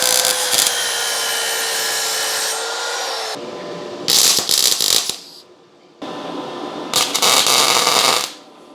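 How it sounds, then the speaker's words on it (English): Metal parts are cut in a workshop with a loud, sustained, abrasive cutting noise, then two separate shorter cutting bursts with brief quiet gaps between them. "Let's do some cutting and welding."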